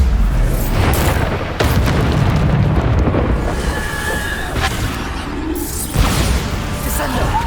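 Bombarda spell blasts in Hogwarts Legacy, loud booming explosions with whooshing bursts repeating over several seconds under game action, while a voice shouts spell names.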